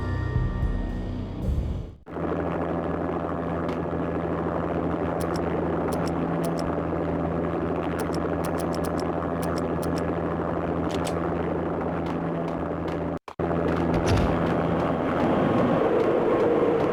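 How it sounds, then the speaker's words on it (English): Armed helicopter landing on manor grounds in the video game Max Payne, a loud, steady engine and rotor roar that holds unbroken for a long stretch, briefly cut out twice, with no talk over it. "An armed helicopter just landed on the manor grounds."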